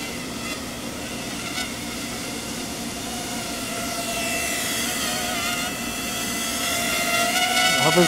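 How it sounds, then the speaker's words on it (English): A Diatone Mamba F405 mini FPV quadcopter hovering nearby, its propellers producing a loud, steady high-pitched whine that swells slightly toward the end. "You can tell those props are pretty loud."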